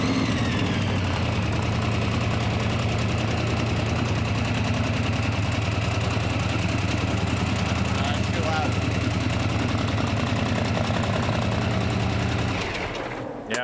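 A drag race car engine idles roughly and continuously with a rapid, rattling, uneven beat suggesting something broken, holding steady before cutting off abruptly near the end.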